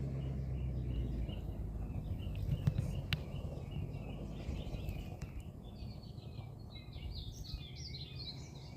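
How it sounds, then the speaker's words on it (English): Faint birds chirp and tweet at a distance in a quiet backyard with full feeders, scattered short calls over a soft outdoor hush. "But I am enjoying hearing those birds chirp."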